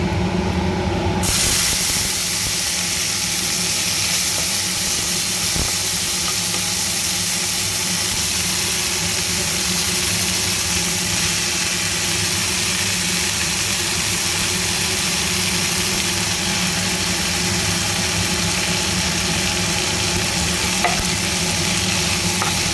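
Red amaranth greens stir-fried with garlic in a pan, a steady broadband sizzle and hiss running throughout with faint scraping of stirring, close and continuous with no talking.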